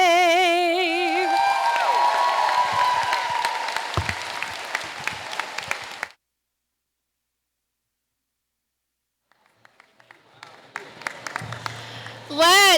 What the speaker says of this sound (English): Let's give Ms. Hopgood another round of applause